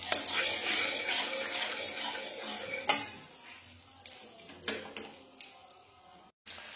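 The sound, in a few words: frying oil and margarine in a pan for green chili fried rice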